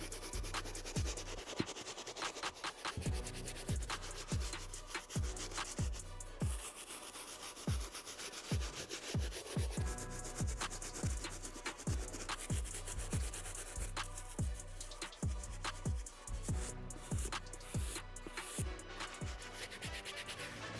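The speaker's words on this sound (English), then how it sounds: "that brush allowed me just to pay closer attention to detail and get just a deeper scrub on these uppers" Rhythmic, brisk scrubbing of mud-caked Jordan 3 sneaker uppers with a medium bristle brush, repeated back-and-forth strokes close up and fairly loud, continuing steadily for about twenty seconds with no talking.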